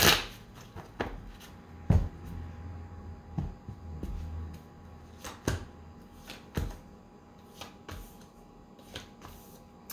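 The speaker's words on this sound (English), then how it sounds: "Feeling one more shuffle here." Tarot cards being shuffled in a series of crisp riffling bursts and soft slaps, close up, with short pauses between, no talking.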